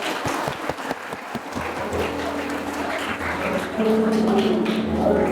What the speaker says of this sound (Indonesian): Kita berikan tepuk tangan yang baik